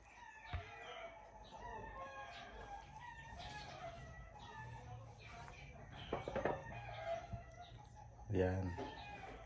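A rooster crows in the Philippine countryside, one call near the end rising above a steady rural background of faint clucks and distant bird sounds.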